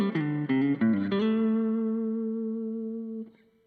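Played a bit more cleanly, an electric guitar picks a fast run of notes moving from the high strings down to the low E, then settles on one long sustained note that rings for a couple of seconds before being muted.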